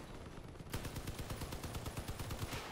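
Rapid automatic gunfire from a deployed turret in the vehicle combat game Crossout, a steady stream of sharp, evenly spaced shots starting abruptly and continuing loud and close.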